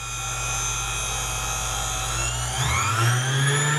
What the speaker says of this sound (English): It's pretty quiet for a grinder.